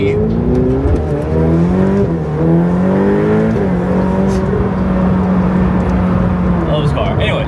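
A Ferrari sports car engine revs loudly and close, a sustained high, rising and falling roar that holds for several seconds, with faint background sounds.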